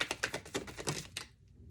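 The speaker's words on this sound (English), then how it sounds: "So literally you're shuffling and the card just goes flying out." A deck of tarot cards being hand-shuffled gives a quick run of crisp, rapid flicking clicks for about a second before stopping abruptly, close and fairly loud, with no speech.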